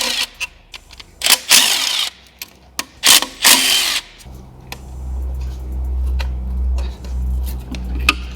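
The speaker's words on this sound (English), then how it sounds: "Next I remove all the screws" A power tool removes screws from the engine cover of a BMW N62 during a coolant pipe replacement: a run of sharp, close bursts in the first four seconds, then a steady low hum.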